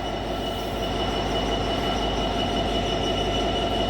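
An East Midlands Railway train rumbles past at Nottingham, a loud, steady roar of wheels on rails with a faint squeal running throughout.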